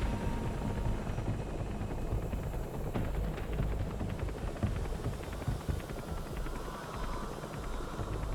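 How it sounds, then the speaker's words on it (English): Helicopter in Metal Gear Solid V, a faint, steady rotor rumble with a broad noisy wash and soft rhythmic chopping, heard alone with no voices. "The chopper will be waiting."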